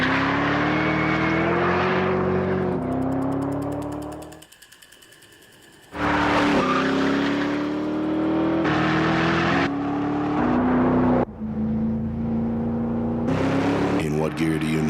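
Ford GT sports car engine revving and pulling through the gears, a loud droning tone that climbs in pitch in repeated sweeps, broken by a brief drop-off and quieter gap before powerful acceleration resumes, with gear changes marked by sudden cuts.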